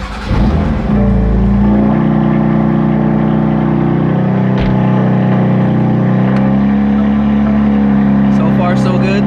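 BMW F82 M4 engine with newly installed front-mount intakes starting up and idling, a loud steady rumble that settles after the crank, with brief blips and someone talking over it.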